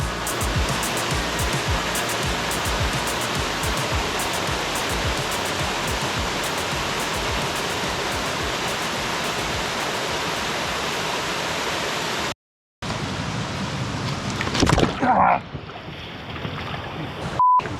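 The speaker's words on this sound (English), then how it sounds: "What a cool waterfall right here though." A creek waterfall makes a steady, loud, broadband rush of falling water up close. Then a brief dropout, scraping and handling knocks follow over the quieter continuing flow.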